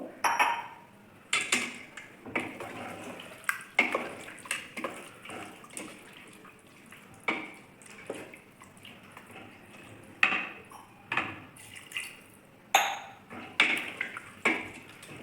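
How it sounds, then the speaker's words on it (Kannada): Water poured into a pot of pepper chicken, with splashes and sharp clinks of metal utensils against the pot in irregular bursts, close by and with no talking. "ನೋಡಿ ನಾನು ಇಷ್ಟು ನೀರು ಹಾಕ್ಕೊಂಡಿದ್ದೀನಿ"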